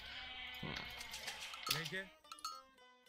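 Goats bleating in the video game Age of Mythology, several wavering bleats close together, rising and breaking, with a voice talking underneath.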